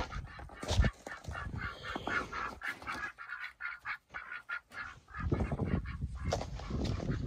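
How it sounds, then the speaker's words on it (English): Ducks in a pen quack and honk in loud, uneven bursts close by, falling to quieter gaps in the middle before the noisy calling picks up again. "Alright, made it over here to check on the ducks."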